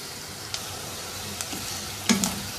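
Chopped onion frying in a karahi, a steady soft sizzle with a few light utensil taps and one louder scrape near the end, close, no talking.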